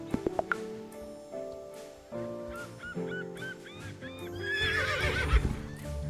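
A horse in a video game whinnies and snorts ahead of a race, with a few sharp clops at the start and a goose-like honking cry rising near the end, fairly close and with no talk.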